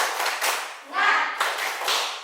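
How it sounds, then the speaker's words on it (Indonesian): A teacher and class perform a rhythmic clapping chant together in a classroom, several bursts of claps in a steady beat mixed with voices chanting along. "silakan kita sama-sama tepuk semangat"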